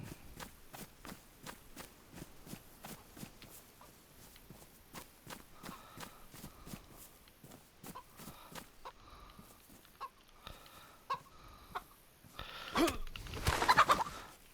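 Chicken clucking in the DayZ video game, a fowl in the Livonia map, with repeated game footsteps walking and running throughout and a louder burst of activity near the end.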